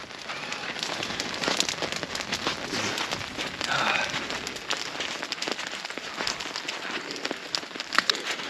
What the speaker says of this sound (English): A lot of hail.